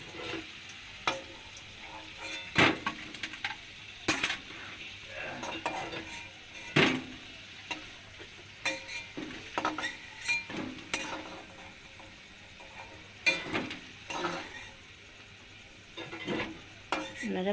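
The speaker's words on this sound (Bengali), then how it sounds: "আলুগুলো লাল লাল করে ভাজা হয়ে গেছে" Potatoes fry in a pan until reddish and are stirred over and over. Scraping strokes from the utensil come in an irregular rhythm over a soft, steady sizzle, close and fairly quiet, with no talking.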